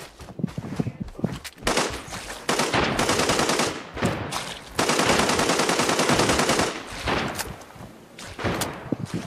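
Gunfire in the tactical shooter Arena Breakout on the Northridge map: loud bursts of rapid automatic shots come in long stretches, broken by short gaps and a few single shots.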